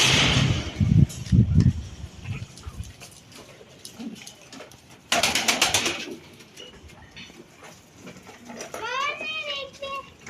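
Pigeons coo in a farm coop that also holds quails, soft throaty calls under people talking, including a voice, with a burst of rustling or wing flapping midway and a clearer warbling coo near the end.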